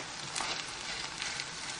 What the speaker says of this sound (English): Slide the omelette in the frying pan, and this is how we cook the other side.